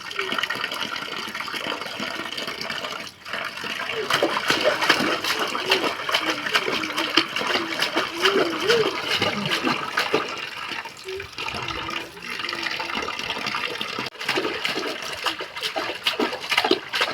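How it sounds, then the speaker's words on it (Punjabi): Water sloshes and splashes steadily as a small child plays in a tub, with voices chattering intermittently over the watery noise. "ਦੇਖੋ ਪਾਣੀ 'ਚ ਬਹੁਤ ਜ਼ਿਆਦਾ ਛੇੜਦਾ"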